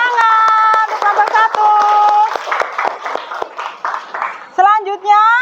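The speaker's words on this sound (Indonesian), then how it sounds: "kasih tepuk tangan untuk kelompok" A class claps for a presenting group in a rhythmic clapping cheer, with sharp hand claps under loud children's voices chanting together, ending in brief shouts.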